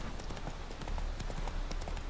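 Horse hooves clip-clop in a steady walking rhythm in The Witcher 3 on Xbox One X, fairly close and clear, with game ambience underneath and no talk.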